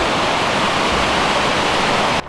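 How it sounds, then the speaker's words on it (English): The Mary Vine Creek waterfall roars as a loud, dense, continuous rush of water heard up close, then cuts off abruptly at the end. "we're gonna take one more look at this waterfall because it's magnificent."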